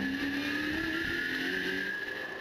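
A Ford Mustang Trans Am race car at Sebring in 2019 holds a loud, steady, high-revving engine drone with a constant whining tone throughout, no voices.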